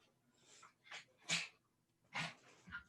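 A dog sneezing indoors, several short sharp snorts spaced unevenly, close and fairly quiet, with no talking.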